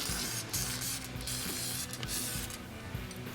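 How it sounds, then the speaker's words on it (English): Aerosol lubricant sprayed in short hissing bursts onto the cam lobes of a Briggs V-twin Intek engine, faint and close, with no talking. "we're going to spray some on here and some on the lobes, so we've got lubrication on there already"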